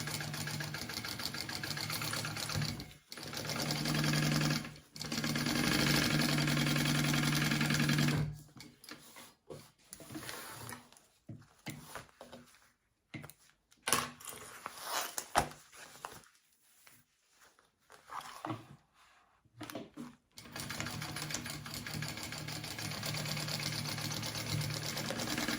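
A sewing machine stitches the two side seams of a bag at normal seam allowance, its steady mechanical whir running in long bursts with stops and short restarts between.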